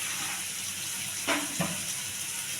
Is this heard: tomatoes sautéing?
yes